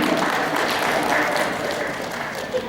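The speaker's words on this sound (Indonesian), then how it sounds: "Kita berikan tepuk tangan yang meriah sekali lagi." Audience applause at an award ceremony during a work meeting, a steady dense wash of clapping that fills the room throughout with no break.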